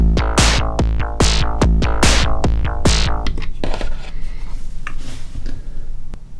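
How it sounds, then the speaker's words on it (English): A Moog DFAM analog drum synthesizer plays its sequencer in a quick run of sharp, pitched percussive hits, loud and close, before the pattern thins into softer, scattered clicks and decaying tones. "I have my DFAM powered on. It sounds like this."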